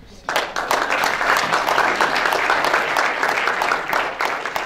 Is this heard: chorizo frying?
no